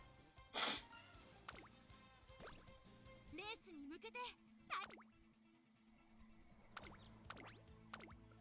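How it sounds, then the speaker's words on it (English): A person with hay fever sneezes once, a sharp loud burst near the start, followed by quiet chimes, soft tinkling effects and other game sounds. "try not to sneeze"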